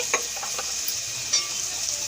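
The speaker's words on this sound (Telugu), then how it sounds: "ఈ ముక్కలు అనేవి ఆయిల్లో ఎర్రగా వేగనివ్వాలి." Bitter gourd pieces frying in plenty of oil for kakarakaya fry make a short, close, even sizzle with a couple of stirring taps.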